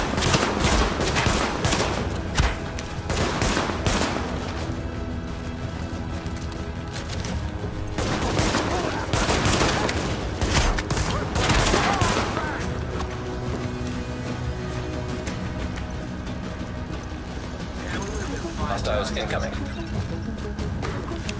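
Gunfire in Tom Clancy's The Division arrives in repeated rapid bursts of automatic fire amid dense, loud game action, with someone talking over much of it.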